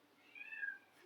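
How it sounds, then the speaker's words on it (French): A hungry cat lets out a single soft, drawn-out meow indoors, faint and alone against quiet room tone. "mon chat est rentré, visiblement elle a faim"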